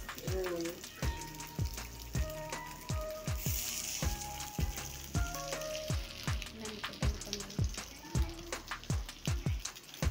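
Egg rice rolls frying in oil in a pan until the skin turns crispy, a steady close sizzle with scattered pops and crackles, punctuated by repeated sharp clicks and taps of a utensil against the pan.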